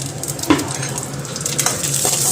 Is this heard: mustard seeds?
yes